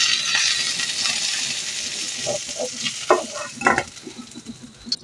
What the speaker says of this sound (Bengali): এই মাছ ভাজার তেলেই আমি 4টা শুকনো মরিচ ভেজে নিব।